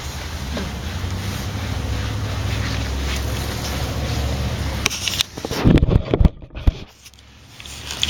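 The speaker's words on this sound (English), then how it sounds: "that's my sprinkler over there making that noise. It's underneath one of the canna leaves." A garden sprinkler runs beneath canna leaves, giving a steady broadband hiss of spraying water that lasts through the clip and is briefly broken by louder, uneven rustling near the end.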